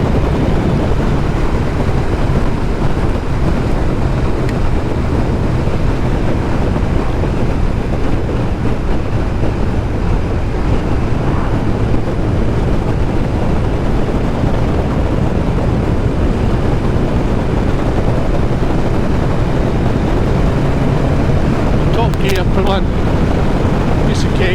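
A Kawasaki ZZR1100 motorcycle cruises in top gear, its steady engine drone mostly buried under constant loud wind rush at the rider's position.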